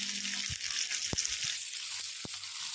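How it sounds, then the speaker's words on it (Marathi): Sesame seeds and curry leaves crackle in hot oil for a tempering, a bright continuous sizzle close by with a few sharp pops and ticks scattered through it, and no talk. "तीळ चांगले तडतडले की त्यामध्ये 10 ते 15 कढीपत्त्याची पानं टाकून घेते"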